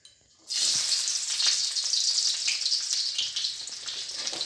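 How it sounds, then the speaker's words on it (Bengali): Bay leaf, green chili and chopped onion hit hot oil and burst into a loud, steady sizzle of frying that continues unbroken after a brief quiet start. "এবার ওতে দিয়ে দেবো আমি একটা কাঁচা লঙ্কা আর একটা পেঁয়াজের কুচো।"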